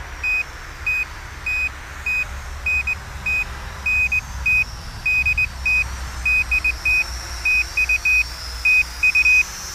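An SJRC Z5 GPS drone emitting rapid, irregular short electronic beeps, many in quick succession, over a low steady background rumble, with no talk.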